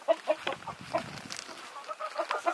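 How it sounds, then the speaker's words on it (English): Several chickens cluck in quick, irregular bursts close by, a busy overlapping chatter of short clucks and murmurs. "all right hello chickens"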